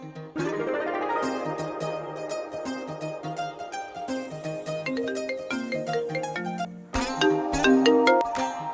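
A melodic ringtone-style tune of a phone ringing on an outgoing call, playing steadily and fairly loud for several seconds, with a short gap and then a brighter burst of notes near the end; no speech.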